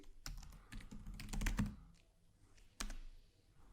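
Username and password typed on a computer keyboard, a quick close burst of key clicks followed by a pause and a single firmer keystroke, quiet with no talk.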